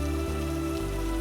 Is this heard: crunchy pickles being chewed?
no